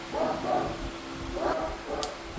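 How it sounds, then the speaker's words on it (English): A pet dog barks in short bursts, roughly four yelps spread over a couple of seconds, moderately close indoors over a steady low hum, with no talking. "I'm going to listen to my dog bark like a madman"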